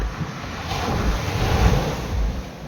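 Steady roar of high-tide surf at Anjuna, Goa, with broadband wind noise buffeting the microphone, waves washing in continuously without a break, fairly loud and close.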